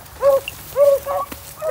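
A female hunting dog gives close, fairly loud whining yelps in three short rising-and-falling bursts, with no talk.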